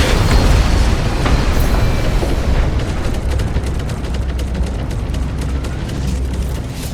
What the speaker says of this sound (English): Wait for the boom! Last dropship's going down.